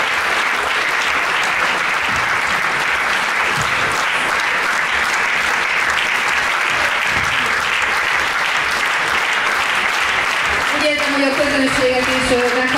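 Sustained audience applause fills a Hungarian singing contest results show, loud and steady throughout, with a brief voice or music entering near the end.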